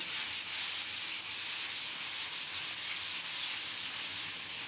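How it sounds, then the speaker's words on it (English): Sandpaper rubs back and forth across a chalk-painted wooden kitchen surface in a steady rhythm, a close, hissing scratch with no talking. "So I'm sanding here."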